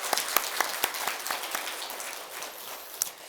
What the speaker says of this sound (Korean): 우리 하나님 앞에 크게 영광의 박수를 돌리겠습니다.